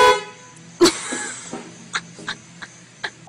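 A car horn honks in a short comic scene, with one loud blast followed by several shorter, quieter toots spaced through the rest of the moment.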